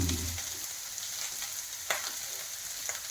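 Onions, green chillies and curry leaves fry in a pan with a soft, steady hiss, and one or two faint utensil scrapes come through. No talking.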